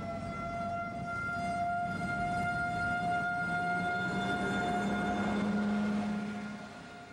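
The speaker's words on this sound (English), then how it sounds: "The night is full of the sound of sirens." A steady, droning siren at night holds a sustained wail that shifts slightly in pitch, with faint low rumbling beneath, then tapers off at the end.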